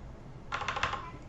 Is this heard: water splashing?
no